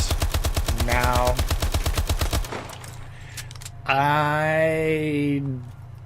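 Rapid, steady bursts of automatic fire from twin SAC-3 submachine guns held akimbo in Call of Duty Advanced Warfare, a dense close-up rattle for about two seconds, then a pause and a rising synthetic whine.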